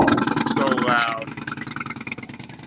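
A loud custom-built Indian motorcycle with a custom exhaust rumbles and idles in a choppy, pulsing beat, with a brief rising rev early on; people are talking over it.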